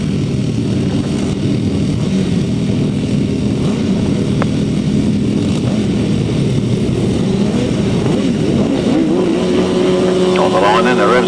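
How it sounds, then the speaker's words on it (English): Grasstrack racing motorcycles held on the start line, engines revving together in a loud, continuous roar that rises in pitch near the end, with a commentator talking over them. "On the line then, the revs are rising."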